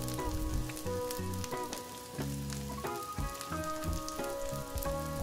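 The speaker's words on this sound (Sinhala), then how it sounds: "වේලිච්ච මිරිස් ටිකත් එකතු කරගෙන ඊට පස්සේ මේකට ලුණු තේ හැඳි එකක් විතරක් එකතු කරගෙන හොඳින් බැද ගන්නවා" Dried and fresh chillies with curry leaves and a teaspoon of salt fry in a pan for egg paratha, giving a steady close sizzle with occasional stirring clinks and a faint tonal hum throughout.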